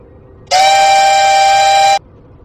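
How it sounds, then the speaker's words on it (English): A passenger train horn sounds in a train simulator video game as the train arrives at a platform: one loud, steady blast lasting about a second and a half, alone over faint background. "Train is arriving at platform number 2."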